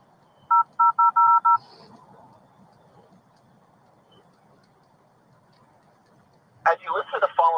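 A quick run of five clipped DTMF keypad tones sounds on a telephone line, then a pause of faint line noise before a voice begins speaking.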